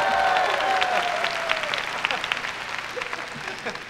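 Concert audience claps for a singer, a dense burst of applause that starts strong and thins into scattered claps, with a voice briefly audible early on.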